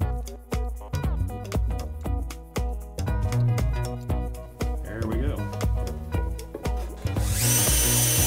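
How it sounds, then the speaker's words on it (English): A power drill whirs in repeated rhythmic pulses, close and loud, drilling out a snow shovel during repair, ending with a harsher grinding burst. "Okay, now I gotta drill these out."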